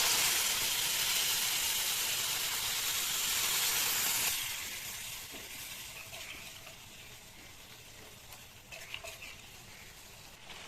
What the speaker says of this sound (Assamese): এইখিনি এতিয়া ভালদৰে উতল আহিছে।